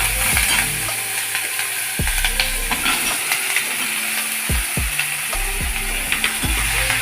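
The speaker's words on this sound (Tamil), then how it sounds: "எல்லாத்தையும் போட்டு வதக்கி" Vegetables with curry leaves and coriander sizzle and fry steadily in a hot pan, with repeated scraping and knocking of a utensil stirring them at close range.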